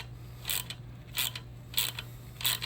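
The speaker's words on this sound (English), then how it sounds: "turning the bolt here" Ratchet wrench turning a bolt on a 2013 Dodge Dart 1.4L engine, four evenly spaced clicking strokes close up over a steady low hum, no talk.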